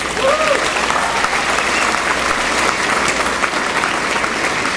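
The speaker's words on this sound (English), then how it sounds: "Let's give a big round of applause to our jazz band led by Christy Chambers." A school crowd applauds a jazz band at a magnet school ribbon-cutting ceremony, dense continuous clapping filling the space evenly from start to finish, loud and close.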